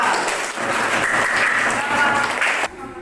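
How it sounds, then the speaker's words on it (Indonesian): Classroom applause for the second student group, a dense burst of clapping that cuts off sharply near the end. "kasih tepuk tangannya untuk kelompok yang kedua"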